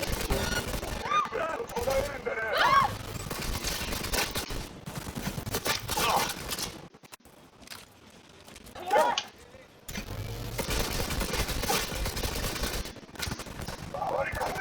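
Bursts of gunfire from the video game Cyberpunk 2077, with rapid shots in clusters over a busy mix of in-game sound, broken by a short quiet gap before the action resumes.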